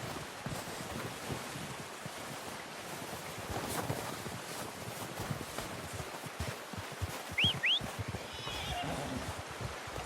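A horse whinnies in Red Dead Redemption 2 amid an outdoor wind and ambient backdrop, with a brief sharp chirp near the end and occasional speech.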